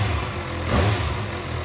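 A 2025 Kawasaki Ninja ZX6R, warmed to 65 degrees and in sport mode, rumbles close by with one brief rev that swells and fades back to a steady idle.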